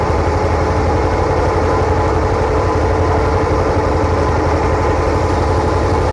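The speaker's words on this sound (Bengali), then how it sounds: "এখন আমরা এই নৌকাতে উঠবো এবং মায়াপুরের যে ঘাট রয়েছে সেই ঘাটে পৌঁছবো" A ferry boat engine drones steadily and loudly without pause while crossing the river to Mayapur, a dense continuous rumble with no voices over it.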